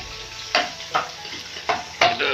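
Meat fries and sizzles loudly in a pan as it is stirred, giving a steady hiss broken by several sharp scraping bursts of the spatula.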